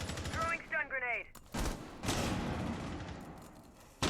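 Gunfire rings out during an esports video game tie-breaker match on the map Kafe: bursts of rapid shots and single cracks trade back and forth at moderate volume, with a voice talking briefly near the start.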